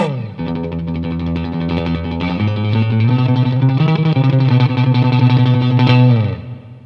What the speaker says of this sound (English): So we can get plenty of reverb there